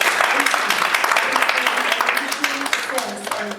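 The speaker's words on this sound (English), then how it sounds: "Can we have a round of applause?" A crowd at a Cannes panel claps in a dense, steady patter of applause that gradually thins toward the end.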